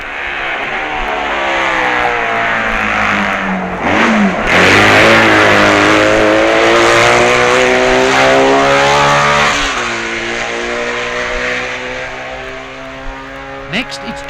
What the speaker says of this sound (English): Scheidegger blasts his BMW round Quarterbridge first.